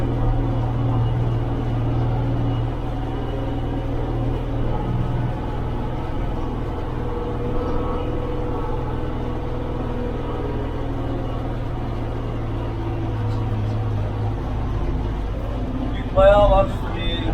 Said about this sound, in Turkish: Traktörün tek sıkıntısı kabin ses alıyor